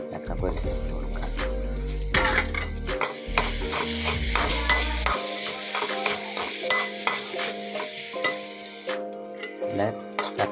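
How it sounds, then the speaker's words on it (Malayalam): Chopped amaranth leaves stir and sizzle in a hot pan, with steady frying hiss and repeated scraping of a spoon close by, and a voice speaks over part of it. "നമുക്കിതിലേക്ക് അരിഞ്ഞ ചീര ചേർത്ത് കൊടുത്ത് നല്ലതുപോലെ ഇളക്കി കൊടുക്കാം."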